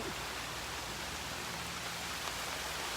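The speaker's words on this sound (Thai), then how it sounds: "ตอนนี้ฝนเทลงมาอย่างหนักครับ" Heavy rain pours down in Krabi province, Thailand, a dense, even roar of falling water that stays constant and fairly faint throughout, with no voices.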